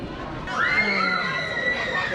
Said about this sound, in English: You can hear the screams.